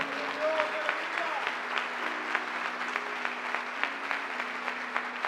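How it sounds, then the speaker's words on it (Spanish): Church congregation applauds during a worship service, steady crowd clapping with sharp individual claps standing out, while a voice speaks and a tonal hum of music runs underneath. "Dale fuerte el aplauso al Señor."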